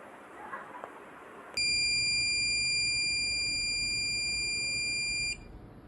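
A buzzer on an RP2350 microcontroller board sounds a single loud, steady high-pitched electronic tone that starts abruptly and holds for about four seconds before cutting off, after a quiet lead-in.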